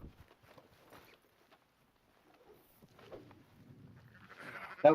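Bleating from a black sheep wearing a bow in a video game, faint and intermittent amid soft footstep-like steps, swelling into a brief louder bleat at the end.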